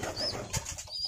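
Domestic pigeons give soft, murmuring coos close by, short and muffled among rustling noises.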